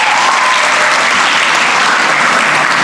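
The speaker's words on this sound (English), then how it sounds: "Everybody give a round of applause to the teachers that do so much hard work." A crowd at a school graduation ceremony applauds the teachers, a loud, dense, continuous roar of clapping filling the hall from start to finish.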